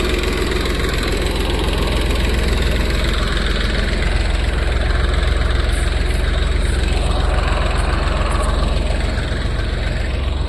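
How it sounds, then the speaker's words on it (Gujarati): A tractor engine idles steadily while reversing, giving a constant, loud, low rumbling drone that is close and unchanging throughout, with no speech. "ટ્રેક્ટર રિવેસ મારીને હવે આપણે ત્યાં મૂકવાનું છે સેટઅપ બેઠું."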